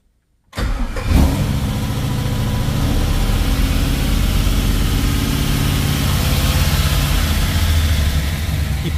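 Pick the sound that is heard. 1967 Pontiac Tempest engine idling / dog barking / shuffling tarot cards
1967 Pontiac Tempest engine idling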